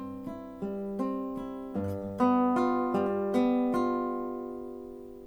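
Classical guitar playing a short passage from a Carcassi Allegro, plucked notes over a low G bass that jumps up to a higher G, steady and moderately paced, close and clear with no voices.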